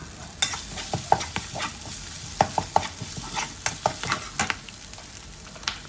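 Curry paste and torn kaffir lime leaves stir-fried for fresh mussels in a Thai dish, with a steady sizzle and repeated scraping clicks of a spatula against the pan, close, with no talk.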